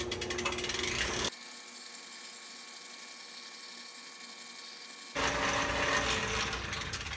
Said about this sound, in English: All right, let's get a little sanding done.